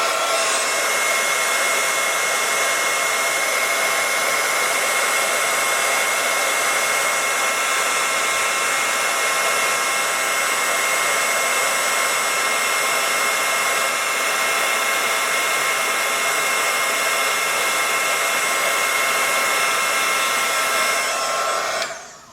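Hair dryer blowing to dry ink on a Halloween craft project, a loud, steady whooshing whine held continuously for over twenty seconds before cutting off at the end, with no talking.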